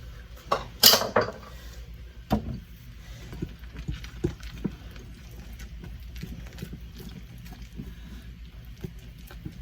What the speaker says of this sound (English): And I'm going to take off my beater. I like to scrape it.